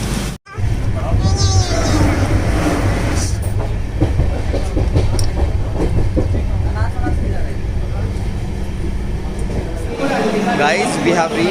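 The Deccan Queen passenger train runs on rails toward Lonavala, filling the space with loud, continuous rumbling and rhythmic clickety-clack of wheels from inside the coach, with voices and occasional screeching mixed in.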